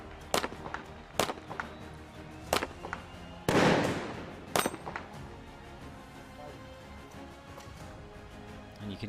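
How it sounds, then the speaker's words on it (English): Snipers firing from the top of a tower at the UAE SWAT Challenge 2023: a series of sharp, echoing outdoor cracks spaced a second or so apart, with one heavier blast midway before the shots thin out. "And you can hear the snipers who are now top of that tower."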